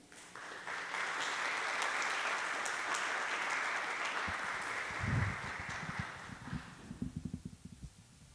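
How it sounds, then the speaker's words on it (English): Sustained applause from a crowd at senior capstone presentations, steady clapping that thins out toward the end into a few scattered, louder individual claps. "one more kind of round of applause"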